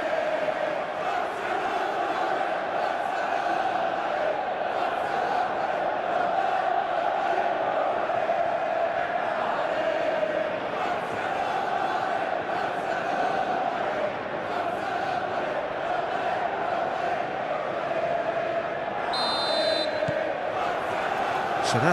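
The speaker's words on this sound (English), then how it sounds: "a capacity crowd here" A capacity crowd roars without a break through the game broadcast of an AS Roma vs Atalanta Serie A match in Football Life 2025, a loud, dense wash of stadium noise under faint commentary.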